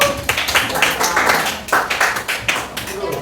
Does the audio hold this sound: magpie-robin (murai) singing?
no